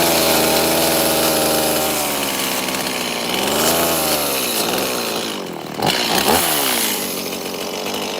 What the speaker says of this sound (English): Anything else I can fix with that saw?